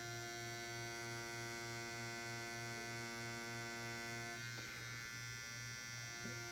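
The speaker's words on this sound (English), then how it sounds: "as I go in, you can hear the needle change. The motor gets louder because the resistance gets higher." A tattoo machine motor buzzes steadily and close, then its pitch and texture shift as the needle goes into the skin and the load rises, with no talk.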